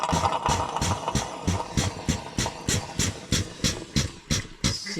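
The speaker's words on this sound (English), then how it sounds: "I have a sucker here to suck that little bit of oil out" A hand suction tool pulls leftover oil from the oil filter housing of a BT50/Ranger, making a rhythmic series of close, hissing slurps, roughly three per second, pulsing evenly with a faint mechanical rattle beneath.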